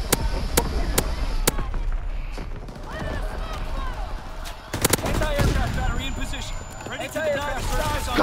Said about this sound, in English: Firing primary battery. Target position confirmed. Artillery barrage and respawn.